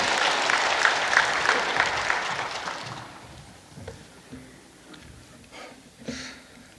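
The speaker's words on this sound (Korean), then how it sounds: "박수 한번 드리십시다." A church congregation applauds during a Sunday worship service, loud, dense clapping for about three seconds that then thins out into scattered claps and faint room noise.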